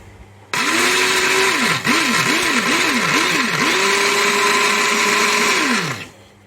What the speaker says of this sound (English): Let's get blending.